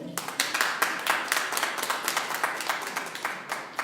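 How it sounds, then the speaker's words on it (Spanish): A church congregation applauds during a Spanish-language sermon, a close, steady patter of many hands clapping throughout with a slightly uneven rhythm. "Denle un aplauso al Señor."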